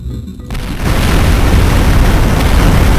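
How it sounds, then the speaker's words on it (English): A pipe bomb goes off in Duke Nukem 3D, a loud, sustained explosion that swells after a brief lead-in and rumbles on with heavy low-end roar to the end. "So that's actually what those pipe bombs do. They create giant explosions, basically."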